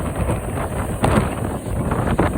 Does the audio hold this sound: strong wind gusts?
yes